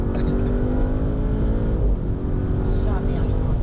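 Audi RS6 C7 accelerating in winter, its engine and exhaust giving a steady, loud, deep drone heard from inside the car, with a brief crackle near the end.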